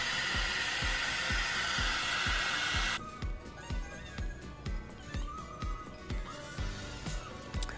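A heat tool blowing to push epoxy colors makes a steady hairdryer-like whoosh that stops partway through, leaving quieter rhythmic tapping and handling noises.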